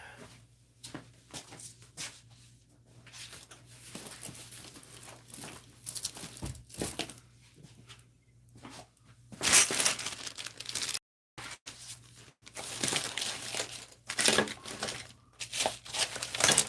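Paper crinkling and snipping with scissors at a tabletop, cutting out a short slip, in scattered bursts of crisp cuts and rustles that grow louder and denser toward the end, close by with no talk.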